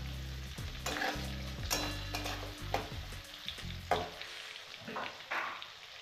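Garlic and green chillies frying in oil on a high gas flame, a steady close sizzle with repeated scraping and stirring strokes of a spatula against the pan, no voices.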